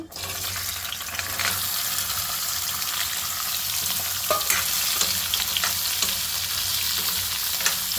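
Ivy gourd (tindora) pieces frying in hot oil, a steady, dense sizzle throughout with occasional soft stirring scrapes, no voices.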